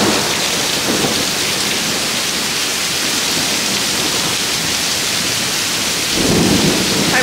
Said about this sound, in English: Look at all of this rain. I mean, it is ferocious.